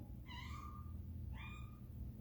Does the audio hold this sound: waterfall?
no